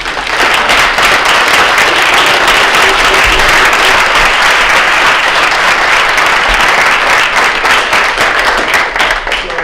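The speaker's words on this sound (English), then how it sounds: "Could we give Danielle Sueca a round of applause?" A loud, dense round of applause from a lecture audience at the Constance Clayton Lecture, many hands clapping together in a continuous wash that holds strong and even throughout.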